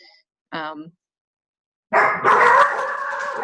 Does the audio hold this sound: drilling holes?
no